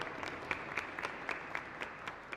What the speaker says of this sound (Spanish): Fuerte aplauso entonces para el Señor.